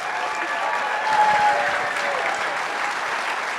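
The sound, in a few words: audience applause after a talk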